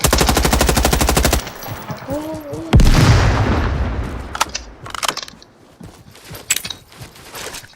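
Gunfire in the Roblox game Frontlines: a rapid machine-gun burst opens loud and close, followed by a heavy boom and scattered sharper shots fading off, with a voice talking briefly.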